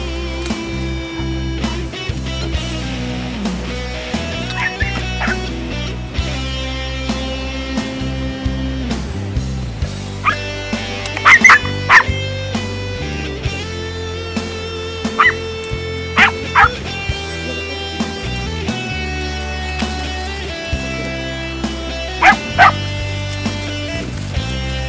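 Podenco Andaluz hunting dog barking and yipping in high, excited bursts while chasing a rabbit during a hunt, the calls scattered and recurring at varying distance over steady outdoor background noise.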